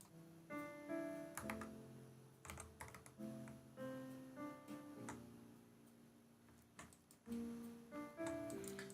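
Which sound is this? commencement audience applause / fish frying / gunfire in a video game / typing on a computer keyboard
typing on a computer keyboard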